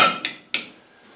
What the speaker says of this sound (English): I'm going to knock the dowels through.